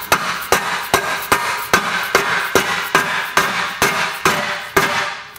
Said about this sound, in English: Take and we'll tap in the center just to kind of get it started